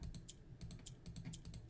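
Puzzle pieces being clicked in the Blue Prince video game produce a quick, uneven run of light, close clicks, around a dozen in under two seconds, with no talking.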